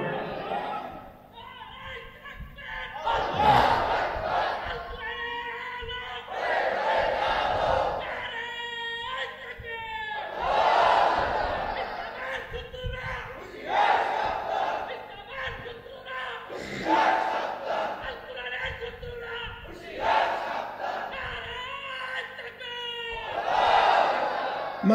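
A crowd at an Islamic religious gathering chants Allahu Akbar back to a leader's call of Naraye Takbir. Loud massed voices swell and fade in repeated waves, alternating with a single amplified voice calling out over a public address system.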